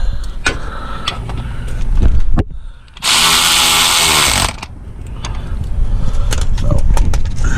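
On a 2013 Dodge Charger R/T 5.7, a power tool runs in one loud, steady burst of about a second and a half while tightening A/C compressor bolts, surrounded by clinking and handling noises from the work.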